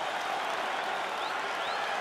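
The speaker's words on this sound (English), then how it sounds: "Stand and cheer, ladies and gentlemen." An arena crowd at a UFC fight applauds and cheers after a bout goes the full 25 minutes, a dense, steady wash of clapping and cheering that fills the whole clip with no break.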